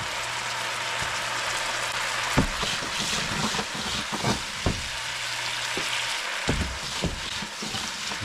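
Butter sizzling as it melts into a hot pan of cooking meatball sauce, a steady crackling fry with a few sharp pops and clinks scattered throughout, no voices.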